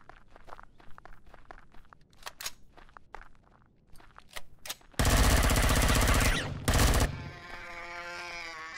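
Rapid bursts of gunfire from a weapon aimed at creatures in the video game Empyrion, a dense, loud volley that stops briefly and resumes, after a stretch of crunching footsteps, with no talking.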